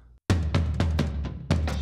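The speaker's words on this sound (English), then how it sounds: "And we have a more solid floor tom." A floor tom processed with drum EQ and multiband gate plugins, five deep, punchy hits in quick succession, each with a tight boomy decay, loud and close with no talking.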